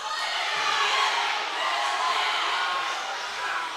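Spectators at a high school volleyball match shout and yell together, a sustained loud crowd roar lasting several seconds without a break, close and dense, with no clear single voice standing out.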